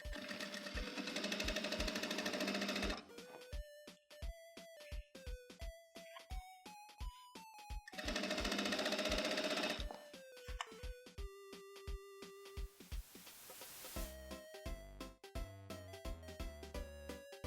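A sewing machine stitches a jeans hem around the leg in two long continuous runs. Between them come slower, separate clicks as the needle is stepped and the fabric is turned.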